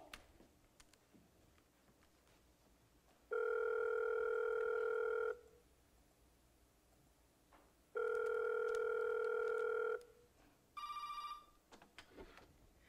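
A telephone call goes out: a dialing tick, then two long loud ringback tones separated by silence and a shorter third tone, with no talk.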